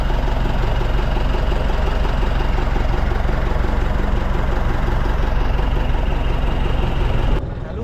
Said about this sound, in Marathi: आणि हे इंजिन आहे